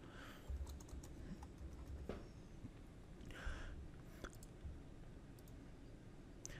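Quiet, steady typing on a computer keyboard while entering text in Roland CutStudio software, with soft rapid key clicks and a few louder taps, nobody speaking.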